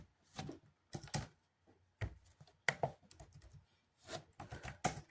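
Commands are typed on a computer keyboard in short, quiet bursts of clicking keystrokes separated by pauses, close and soft, with no voices.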